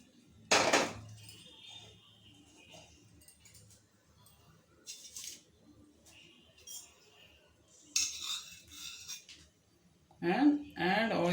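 A pan set down on a stovetop while murukku is being made, one sharp metallic clank near the start, followed by further clinks of kitchen utensils and a voice talking quietly in the background.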